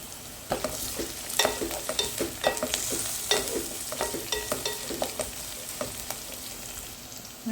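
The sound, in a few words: crushed ginger and garlic frying in a pan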